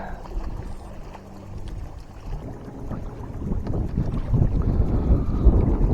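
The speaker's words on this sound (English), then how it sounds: "It's getting windy." Wind gusts across Apache Lake in Arizona around a fishing boat, a rumbling, buffeting roar against the microphone mixed with water sloshing. It starts moderate and grows stronger and rougher toward the end.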